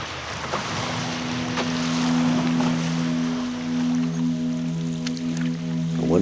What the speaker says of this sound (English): Hunter and Harris paddle, taking us through the good stuff.